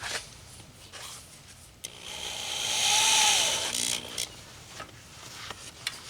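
A hand drill bores into thick locomotive steel, giving a continuous scraping, grinding rasp that swells louder in the middle and picks up a brief whining squeal before easing back, with scattered knocks around it.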